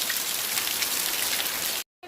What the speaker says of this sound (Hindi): बारिश को देखिए कितनी तेज़ हो रही है